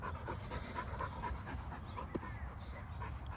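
A little Chihuahua pants in quick, steady breaths close by, with a faint whimper and a brief click partway through.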